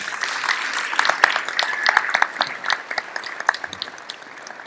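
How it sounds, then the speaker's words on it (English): An audience at a birth anniversary celebration for Maldev Bapu breaks into applause for Sergio, a crowd of hands clapping briskly with sharp individual claps standing out before the sound thins and tapers off. "Can we give a big round of applause for Sergio"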